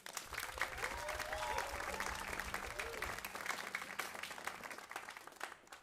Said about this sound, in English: I also want to give a round of applause to Dana, our MC tonight